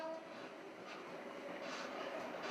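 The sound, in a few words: moving PNR train rocking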